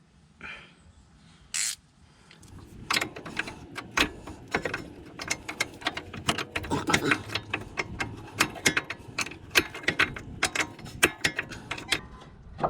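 Ratchet spanner clicking in short bursts while undoing a nut on a front anti-roll bar link of a Honda Civic EK3, sharp close ticks repeating irregularly in half-turn strokes with brief pauses.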